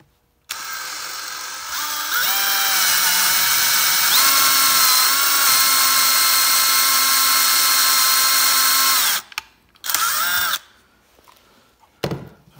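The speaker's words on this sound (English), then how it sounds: "Then come in with a hole saw, all right? And then we're gonna drill it." A power drill with a hole saw whines steadily for about eight seconds, its pitch shifting slightly as it cuts into a 2JZ engine oil pan, then stops, followed by a few brief clunks and quiet handling noises.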